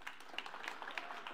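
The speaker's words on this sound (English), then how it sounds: "So everyone give a round of applause for Ariana." Sparse, quiet clapping from a church audience welcoming a child, a handful of distinct claps scattered over a brief moment without speech.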